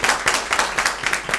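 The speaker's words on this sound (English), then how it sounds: "big round of applause for Vinny, everyone." Live comedy-show audience clapping in a quick burst of applause, rhythmic pulses of hand claps close and fairly loud, with no talking over it.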